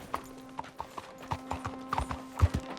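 Horse hooves clip-clop in the video game Red Dead Redemption 2, a steady rhythm of light, fairly close hoofbeats at walking pace, soft overall with a faint hum underneath.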